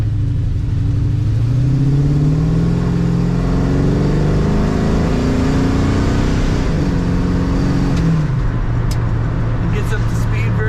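A 1953 GMC 5-window short box pickup street rod engine revs up and accelerates, its pitch climbing and shifting through gears, loud and close.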